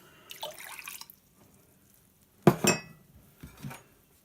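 Water is poured into a jerky marinade in a kitchen: a brief close splashing burst, then short trickles and small clinks, faint and alone with no talking.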